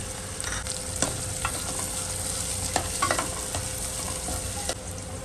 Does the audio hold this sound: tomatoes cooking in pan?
yes